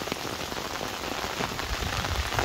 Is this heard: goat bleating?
no